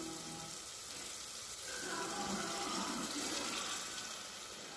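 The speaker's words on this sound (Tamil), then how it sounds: "இப்போ நம்ம தண்ணி ஊற்றிடலாம். 1 டம்ளர் அரிசிக்கு 2 டம்ளர் தண்ணி." Water pours into a cooking pot for rice, a steady rushing stream that swells in the middle and holds to the end, fairly quiet, with no voices.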